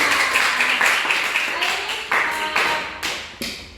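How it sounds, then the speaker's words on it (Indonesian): A school classroom group claps hands together, a run of sharp, uneven claps close by that trails off into a few scattered last claps. "Oke, tepuk tangan."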